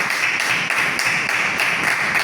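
Audience applause by acclamation at the launch ceremony of an international logistics trade fair, steady dense clapping from a sizeable crowd, continuous throughout with no talking.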